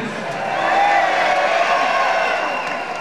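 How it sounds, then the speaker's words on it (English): A concert audience at a show cheers and whoops in a sustained, broad roar that swells after a moment and holds steady for a few seconds, a dense crowd wash with no single voice standing out. "Give us a cheer."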